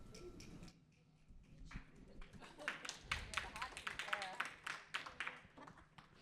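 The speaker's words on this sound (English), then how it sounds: "I know there were a lot of claps to that." Audience clapping at a city budget town hall meeting, a burst of scattered applause from the crowd building up over a few seconds, fairly faint and at a distance.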